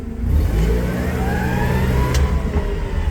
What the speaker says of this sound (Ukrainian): то навантажувач пришвидшиться